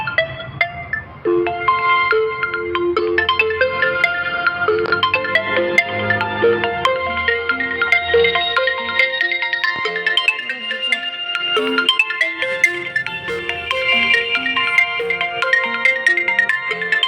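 A mobile phone plays a melodic ringtone, a loud, continuous electronic tune that repeats its pattern for well over ten seconds with no talking.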